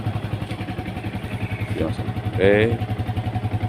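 A used 2011 Yamaha Vixion motorcycle idles with a steady, pulsing engine throb close by, while a voice talks briefly over it.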